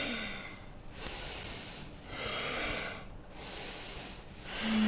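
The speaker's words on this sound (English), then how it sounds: "breathing." Someone takes forceful, rhythmic breaths through the nose during a kundalini exercise, with loud hissing inhales and exhales alternating in close, steady cycles of about a second each.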